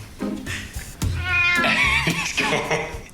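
A cat meows several times in a row, close and clear, with drawn-out wavering cries.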